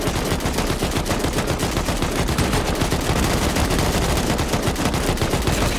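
Rapid automatic gunfire from a video game shooter rattles on without a break, loud dense bursts of shots filling the whole stretch with no voices over it.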